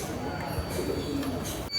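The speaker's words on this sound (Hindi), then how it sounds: "अब तो भाई बहुत सारे कबूतर उतर भी गए।" Soft pigeon cooing amid a busy outdoor background, with faint voices and low rumble throughout.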